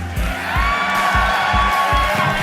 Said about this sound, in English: You hear the Australian crowd pop for Daniel Kelly, the 4-time judo Olympian.